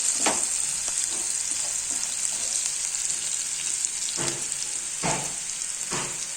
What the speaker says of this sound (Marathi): मग आता कांदा टाकू। कांद्यांना थोडं लालसर रंग येऊ देऊ।